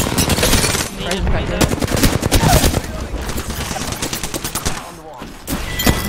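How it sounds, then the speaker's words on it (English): Loud, dense automatic gunfire in the video game Apex Legends, rapid overlapping bursts from several weapons filling the scene almost without pause, with a player calling out briefly over the shooting. "I am taking fire, friends."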